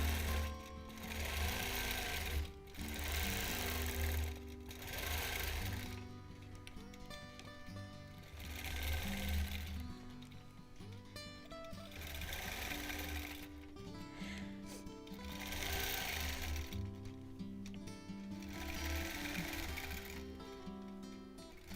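Close, steady bursts of a quilting machine's needle chatter stitching a flower design on a Double Wedding Ring quilt topper, with brief gaps between the runs and the machine's motor hum underneath.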